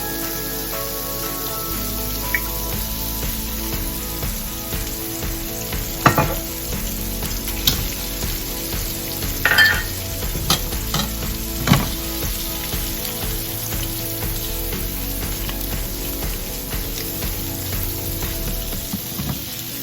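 Sausage frying in olive oil in a pan: a continuous close-up sizzle with light spattering pops and occasional louder crackles, steady throughout.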